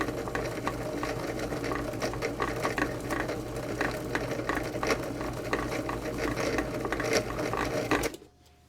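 A food processor motor whirs steadily with a dense, rattling mechanical churn as French bread dough tumbles inside, running continuously for about eight seconds before cutting off.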